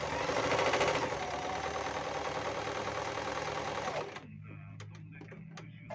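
A Panavox 8160 sewing machine runs a straight, short stitch with a dense, steady mechanical whir for about four seconds, then stops, leaving a quieter hum and a few sharp clicks.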